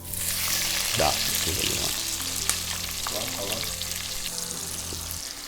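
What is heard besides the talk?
onions sizzling in spiced oil in heavy pan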